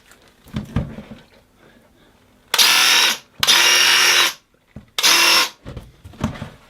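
A loud Graco Ultramax airless paint sprayer motor roars in three long bursts, separated by pauses, with a person talking in between.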